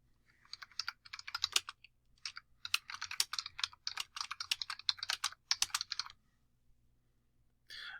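Typing on a computer keyboard, quick bursts of light clicky keystrokes in short runs with brief pauses, close and fairly quiet, ending with a short gap and one more brief clatter.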